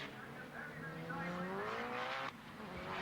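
Race cars speeding along Surtees Straight on a racetrack, a loud continuous engine roar with rising pitch as they pass close by, with a sharp change near the end.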